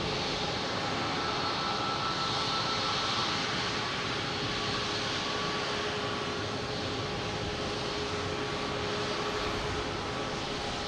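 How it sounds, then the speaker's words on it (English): Alaska Airlines jet arriving from Portland at Boston Logan, a steady broad engine roar with a faint whine held evenly throughout, no talk. "We got the Alaska Airlines here coming in from"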